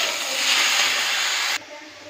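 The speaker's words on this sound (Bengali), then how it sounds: "মশলাটা কষা হচ্ছে।" Spice paste frying in a pan for a bottle-gourd-leaf chorchori, giving a loud, close, steady hiss that suddenly drops away to a quieter sizzle near the end.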